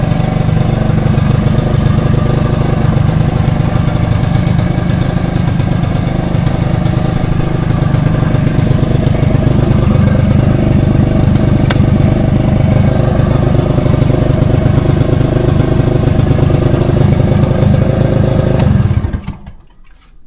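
A Honda Civic engine runs at a steady idle, a loud, even low rumble with light clatter that holds for about nineteen seconds, then cuts off abruptly near the end.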